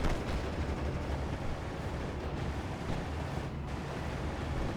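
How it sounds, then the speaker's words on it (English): A Panzerwerfer rocket barrage in a World War II video game rumbles as a continuous, dense roar of distant explosions and impacts, steady and loud throughout. "There's another Panzerwerfer barrage has came in."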